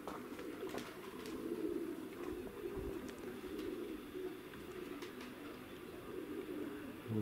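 Pigeons in a dovecote flock, with soft low cooing droning steadily throughout under faint background noise, no voices.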